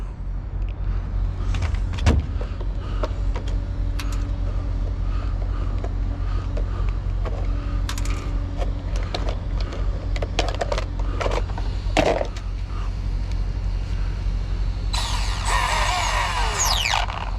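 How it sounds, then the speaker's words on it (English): An Arrma Typhon 3s RC car in a parking lot with stripped gears or a loose pinion, its electric motor whining steadily with rough grinding and rattling bursts and a brief high-pitched buzz near the end. "Sounds like a pinion came off"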